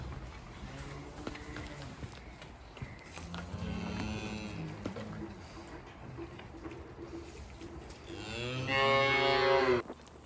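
Calves mooing in a cleaned shed on a suckler cow farm, several drawn-out calls overlapping through the stretch, with a louder, closer moo near the end.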